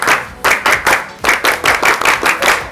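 Several people clap the tepuk pramuka scout rhythm together, sharp and close: short grouped bursts of claps with a brief gap between them, repeated and loud, with no voices over it.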